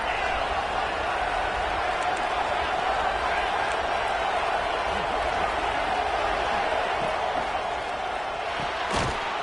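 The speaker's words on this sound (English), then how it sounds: "It's early, but this crowd is fired up. Listen to this noise here." A packed football stadium crowd roars in a continuous, steady wash of noise at the Notre Dame versus Miami Week 1 game, distant and broad, with an occasional thump near the end.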